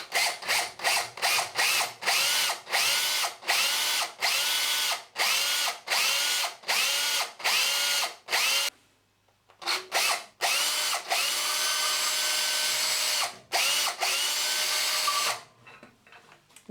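A power drill with a left-handed bit bores out a broken bolt in repeated sharp, loud bursts close by, stopping and starting rhythmically with one longer pause and a final sustained run.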